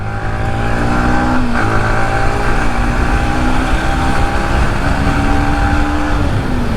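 Up close, a Yamaha MT15 motorcycle engine is revved hard, a loud continuous roar with pitch rising and dipping through several throttle pulls, nothing else audible over it.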